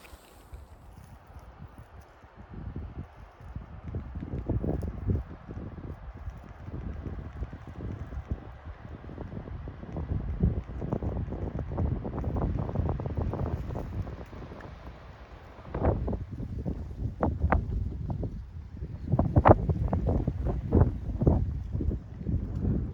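Wind blows across the open desert of the Arizona Trail, buffeting the microphone with a steady low roar while footsteps crunch along beneath it, and no one speaks.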